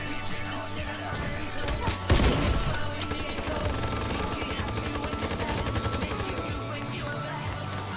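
Rapid automatic gunfire in the online shooter Ironsight, a sharp loud burst followed by sustained rattling fire over a steady background, with no talking.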